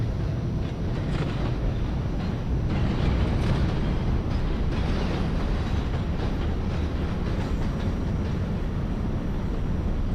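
A video game R68A subway train on the D line rumbles steadily along the tracks, a continuous low roar with faint rattling and no voices, loud and close throughout.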